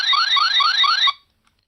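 A Power Rangers morpher toy sounds its electronic alarm, a loud close rising siren-like whoop repeating about five times in quick succession before cutting off abruptly into silence.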